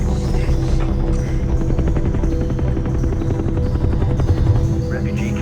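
Steady, loud helicopter rotor drone with a thrumming low beat, continuous throughout and close, with faint game-style effects layered over it.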